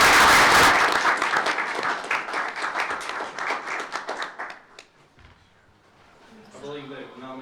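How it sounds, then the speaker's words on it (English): An audience at a school board meeting claps loudly for about five seconds, then the applause thins and dies away, and a voice starts speaking near the end. "Let's give them a round of applause."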